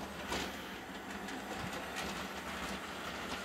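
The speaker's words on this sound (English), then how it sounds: "the Paddington train doesn't like tight curves" Hornby Paddington model train rolling along toy track with tight curves, a steady faint rattling and clicking of wheels running continuously without voices.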